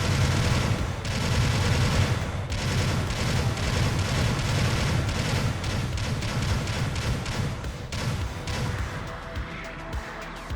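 Rapid main-gun fire from the Kämpfer mobile suit in Gundam Battle Operation 2, a dense, sustained burst of shots rolling on for about ten seconds before thinning out near the end.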